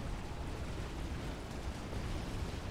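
Artillery fire in the real-time strategy game Supreme Commander during a survival match, a dense, continuous rumble of booming shots and explosions with no distinct gaps, loud and sustained throughout.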